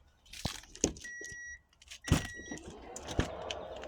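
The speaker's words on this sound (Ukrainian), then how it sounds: "Електробагажник у нас." Electric power tailgate on a 2015/16 Hyundai Santa Fe diesel runs with a steady motor whir, broken by a few sharp clicks and thumps and short electronic beeps, close by with no talk.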